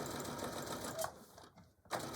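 A sewing machine stitches a Christmas table runner in short bursts of rapid mechanical whirring and clatter, briefly stopping and restarting, fairly quiet and close.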